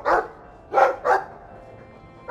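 A dog in the Dragon Age 2 video game barks three times in quick succession, loud and close, with the last two barks nearly back to back and then quiet.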